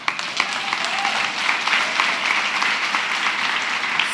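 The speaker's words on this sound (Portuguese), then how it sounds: "Vou dar um aplauso ao Senhor pela vida desse casal." A church congregation applauds in praise, a steady, dense wash of clapping from a crowd that fills the whole stretch at even loudness.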